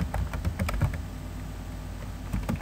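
Light, quick keystrokes clatter on a computer keyboard in a fast, steady rhythm, close and fairly quiet, with no voice.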